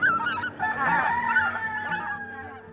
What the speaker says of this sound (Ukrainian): гуска